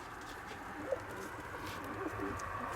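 Pigeons just out of a two-week quarantine coo softly and intermittently, faint and somewhat distant beneath a steady background hiss.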